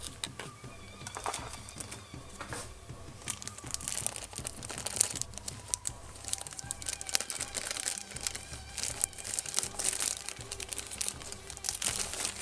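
A padded mailer holding a Robaux DCSN3 eurorack pattern generator kit is opened and its inner bag crinkled, giving steady close plastic and paper rustling with sharp crackles throughout.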